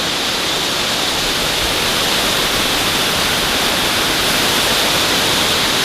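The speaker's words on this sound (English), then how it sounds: "What a stunning waterfall." A waterfall near Settle roars as a steady, loud, unbroken rush of falling water with no voices heard.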